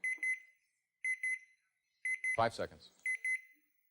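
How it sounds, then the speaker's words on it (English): A game show answer-round timer buzzer: repeated bright electronic double-beeps in regular bursts, loud and close, with a voice talking between the later bursts. "there goes the buzzer."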